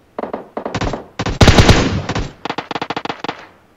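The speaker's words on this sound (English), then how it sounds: "He's shooting at him." Rapid bursts of automatic gunfire from a PUBG Mobile match, several close, loud volleys with short gaps between them and one longer sustained stretch of shooting in the middle.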